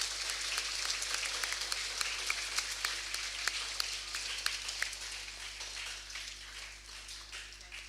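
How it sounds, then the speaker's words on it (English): Steady, moderately distant applause from a school presentation day audience honoring student ministers, continuous clapping with scattered sharper claps, tapering slightly toward the end. "Please give our ministers a round of applause."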